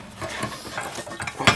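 A shop press squeezes on a Honda S2000 rear balljoint through a pipe and long socket, giving short metallic creaks, clicks and grinding ticks close by, ending in a sharper snap.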